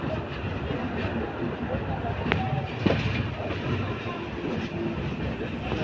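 A passenger train runs with a steady, dense rumble and faint rhythmic wheel clatter, with brief sharp clicks and squeaks over the noise and a voice speaking softly in the background.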